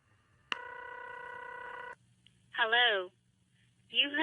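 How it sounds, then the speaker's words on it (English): A telephone rings once with a steady electronic tone lasting over a second, followed by short bursts of a voice answering the line. "It's ringing."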